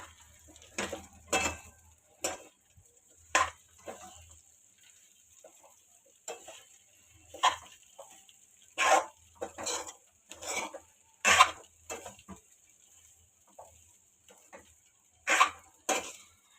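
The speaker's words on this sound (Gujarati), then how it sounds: "આ ફાંદિયા એડ કરશું. સરસ મિક્સ કરી લઈશું." Fandiya ingredients are stirred in a bowl, with scattered soft clinks and scrapes of a spoon against the dish coming in irregular bursts over a quiet kitchen background.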